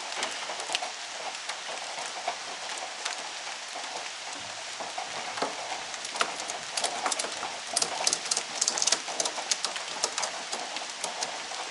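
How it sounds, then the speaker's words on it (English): Steady rain pattering on sheet metal and wood at a root cellar build site, a dense continuous hiss with irregular sharper drop ticks throughout. "The raindrops falling on my head."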